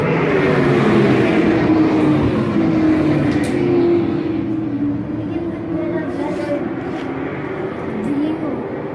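Race cars at Southern National Motorsports Park during the Thanksgiving Classic roar steadily through turn two into the back stretch, a continuous loud engine drone under a track announcer's voice throughout.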